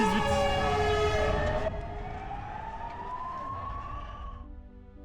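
A fire engine siren wails along a Madrid marathon course, loud and close at first with a rising-falling tone, then continuing steadily as it fades slightly into the distance.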